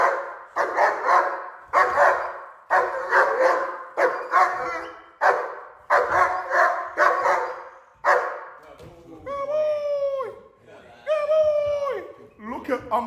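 A German Shepherd barks on command in a run of loud, close barks, about a dozen in uneven bursts, followed by a few higher whining yelps near the end.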